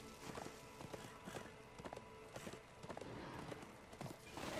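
Horse hooves in Darksiders II clip-clop in a brisk, uneven rhythm of sharp hoofbeats, close and clear over a low background hum.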